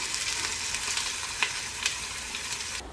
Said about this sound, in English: And now we are going to cook this onion till it becomes a little bit of dark pink shade.